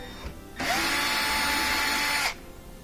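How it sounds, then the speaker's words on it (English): A power drill whirs steadily for nearly two seconds, close and loud, while backing out Phillips head screws from an over-the-stove microwave, with quiet room tone before and after. "we're going to remove these two Phillips head screws"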